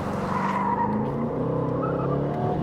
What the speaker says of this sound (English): We are driving the new Aston Vantage.